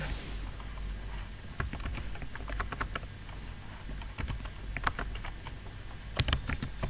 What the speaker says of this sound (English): Now again create a new slide and type